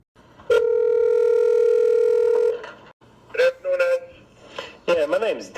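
Telephone call tones: a steady dial tone holds for about two seconds, then stops, followed by short bursts of dialing and ringing tones.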